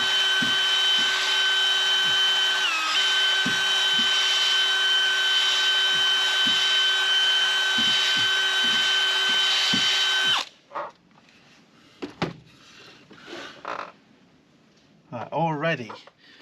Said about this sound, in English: So this wire brush connection on the edge of the drill